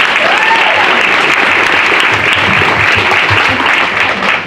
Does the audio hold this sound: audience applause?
yes